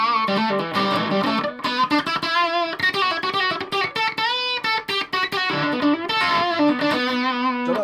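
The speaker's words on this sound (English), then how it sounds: "Almost like a ton of distortion there a little bit." Electric guitar played through a Washburn Stack in a Box distortion pedal, a run of heavily distorted notes and chords with sustained, gritty tones, loud and close, with no talk.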